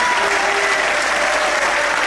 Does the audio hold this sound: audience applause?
yes